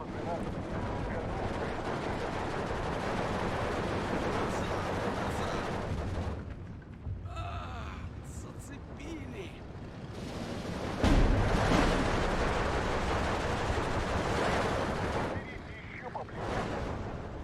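Artillery shelling and small-arms fire in the WW2 strategy game Steel Division 2, a dense, continuous rumble of distant blasts and crackling shots with a sharper close impact partway through, under a busy battle din.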